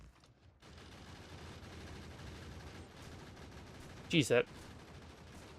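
Turrets firing in Factorio, a short sharp burst of two or three close, loud shots near the end over a low steady mechanical background, with a brief spoken exclamation.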